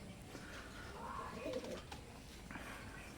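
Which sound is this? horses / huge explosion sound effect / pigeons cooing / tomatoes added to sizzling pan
pigeons cooing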